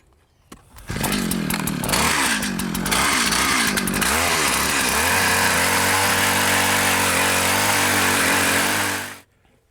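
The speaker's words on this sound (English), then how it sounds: "We've got the auger here." A fence-post auger bores holes for a vinyl fence, its engine starting with a sputter and then revving into a loud, steady roar that holds close and continuous for several seconds before cutting off.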